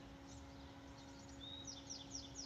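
Birds chirp faintly in the background, a few quick high tweets repeating near the end over a soft steady hum, distant and quiet.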